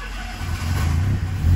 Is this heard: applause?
no